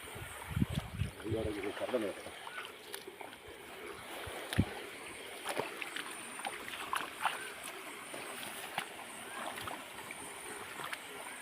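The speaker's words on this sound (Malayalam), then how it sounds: "ആ കമ്പെടുക്കട്ടെ തള്ളാൻ" A small boat on a river being poled along, gentle splashes and water gurgles with occasional knocks, faint and close, with people talking intermittently.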